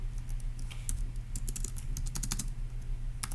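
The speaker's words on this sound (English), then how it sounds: "So let's actually type in what we believe to be the answer." Typing on a computer keyboard to enter a puzzle answer, a quick irregular run of close, crisp key clicks over a faint steady electrical hum, with no voices.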